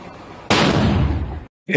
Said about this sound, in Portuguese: Deu para ver ali a gravação até o momento da explosão ali no carro